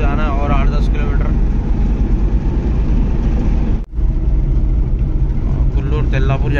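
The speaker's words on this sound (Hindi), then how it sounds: "मैं गाड़ी की स्पीड पूरी पकड़ के रखा हूँ, लाश है स्पीड जा रही" A loaded Mahindra Jeeto mini truck runs at full speed on the road, its engine and road rumble loud and constant with one brief dropout, while someone talks over it throughout.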